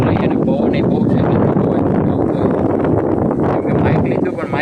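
Strong wind buffets an open microphone in a farm field, a loud, continuous rumbling roar that fills the whole clip with fluttering gusts.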